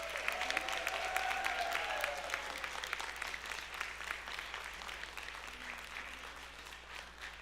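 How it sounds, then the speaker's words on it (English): An audience at a graduation ceremony gives a steady round of applause, dense clapping that starts strong and slowly thins out, heard from a short distance with a faint voice in the background. "let's give all of our graduates another round of applause"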